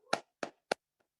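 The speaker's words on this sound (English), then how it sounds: "I want to give everybody a round of applause." A few isolated hand claps at a virtual candidate forum, three distinct close sharp claps evenly spaced followed by a faint fourth, with silence between.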